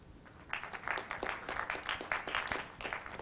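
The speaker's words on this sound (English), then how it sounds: "That was like golf clap." A university lecture audience gives a thin, polite round of golf-clap applause for a student, with scattered individual claps heard at low volume for about three seconds.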